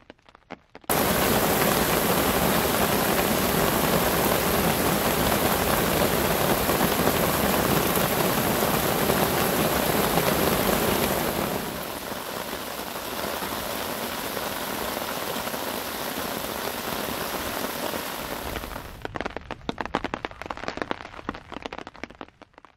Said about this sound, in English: rain came in waves, oftentimes strong and sustained, but then it would let off.